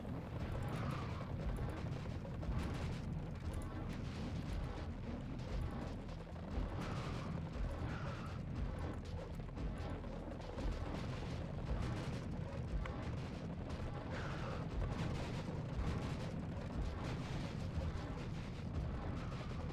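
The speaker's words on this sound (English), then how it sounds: "Send rockets downrange." Rockets fired and bursting in Serious Sam: The First Encounter, a continuous rumbling barrage of launches and explosions that stays loud and dense for the whole stretch.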